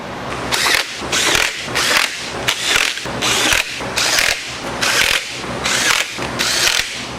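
A ratchet wrench tightens a bolt on a 408 stroker engine in a 1981 Pontiac Trans Am, loud rhythmic bursts of clicking repeating about every half second, close up.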